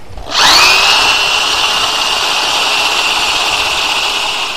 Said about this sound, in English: we're going to start drilling in right here